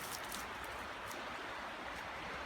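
A creek flows beside a picnic area in the mountains of northwest North Carolina, giving a steady, faint broadband rush of water with no voices and no breaks.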